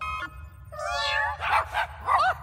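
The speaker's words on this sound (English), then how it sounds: "They can turn meows into barks," A cartoon cat's meow, switched into a dog's bark by an animal sound switching gadget, comes as a stretched, wavering meow followed by several short barking yelps, loud and close over a soft music bed.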